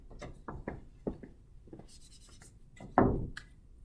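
A pen scratches out numbers on paper in short, quick strokes with small taps and pauses, ending on one firmer stroke, close up and with no talking.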